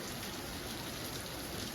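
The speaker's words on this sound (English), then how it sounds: "Alright, nice downpour here." A moderate rain downpour hisses steadily and evenly on outdoor surfaces in Pullman, Washington, with a dense wash of drops and no pauses.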